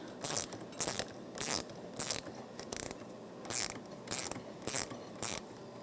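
A 60 mm nut is tightened on a rear shock absorber of a 2009–2014 Nissan Maxima with a ratchet: about nine short bursts of rapid metallic clicking, evenly spaced and close.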